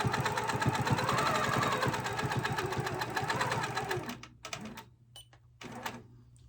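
Sewing machine quilting over hand embroidery, French knots and cross stitch, a rapid close mechanical stitching rattle running steadily for several seconds before breaking into short stop-start bursts.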